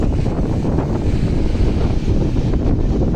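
Rough sea waves wash onto a beach in Zambales at sunset, a loud, continuous rushing roar of surf mixed with heavy wind buffeting the microphone, with no voices.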